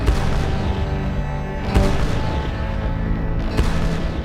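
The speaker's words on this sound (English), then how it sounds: "Charles' cannon blasted away the security of centuries." Cannon fire from early gunpowder artillery in a war setting: dense, continuous rumbling booms with two sharper blasts standing out, loud and heavy throughout with no voices.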